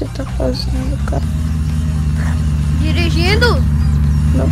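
Steady low engine drone of a car being driven in the survival video game Unturned, loud and continuous throughout, with people talking over it.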